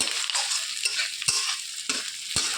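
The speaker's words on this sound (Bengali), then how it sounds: "পেঁয়াজ আদা রসুন আর কাঁচা লঙ্কাটাকে একটু ব্রাউন করে ভেজে নিতে হবে।" Onion, ginger, garlic and green chilli browning in a hot pan for a mutton dish, a steady close hiss of frying broken by a few sharp scrapes of stirring, with no voices.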